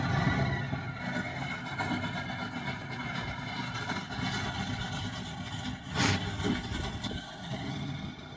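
An old vehicle engine in the Outback settlement of Silverton runs steadily at a rough, mid-pitched idle. It is fairly close and continuous, with a brief louder surge near the end.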